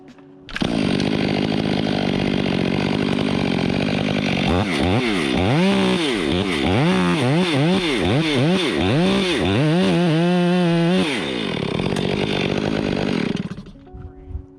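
A loud chainsaw runs steadily during a large tree removal, its pitch bogging and rising repeatedly as it bites into wood, then revs high before cutting off near the end.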